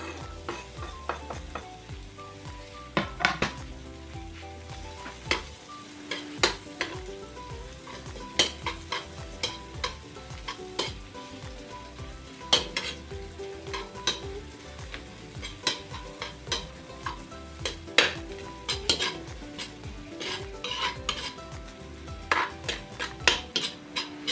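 Onions sauté in a pan with a steady close sizzle, and frequent scraping and clinking of a utensil stirring against the pan sounds throughout.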